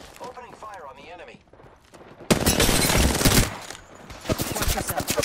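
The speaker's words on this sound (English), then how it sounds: "The enemies are shooting at me." Rapid gunfire in the video game Apex Legends bursts in loudly after a stretch of quieter speech-like sound, dense sustained volleys followed by a string of distinct close shots.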